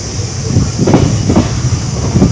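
Salem Yesvantpur Express passenger train rumbles along near Bangalore, loud and close, with steady clickety-clack of wheels over rail joints and a faint squeal, heard from on board.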